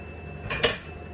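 A utensil stirs a cinnamon stick and lemon zest in a metal pan for crema catalana, giving two brief, faint scraping clinks in an otherwise quiet kitchen.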